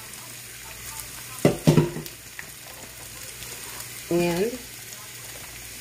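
Sausage frying in a pan with ground turkey, a steady close sizzle running throughout, with a few louder stirring scrapes and clatters partway through and a short burst of speech near the end.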